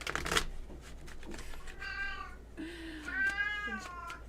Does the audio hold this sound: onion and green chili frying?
no